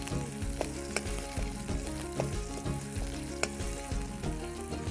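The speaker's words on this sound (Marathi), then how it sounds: "आता हेका ही फोडणी घातल्या." A spiced tempering sizzles steadily and loudly in a pan of hot oil, with sharp little crackles and pops scattered through the continuous hiss. No one speaks.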